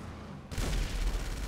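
A sudden loud boom of cannon fire in Grand Theft Auto V, bursting in after a quiet moment and rumbling on with a sustained blast and clatter.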